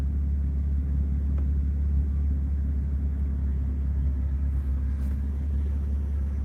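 A parked vehicle named Diesel idles as it is moved out of the way of a storage area, a low, steady engine rumble held close and continuous with no talking.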